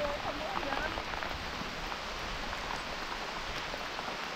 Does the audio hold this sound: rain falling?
yes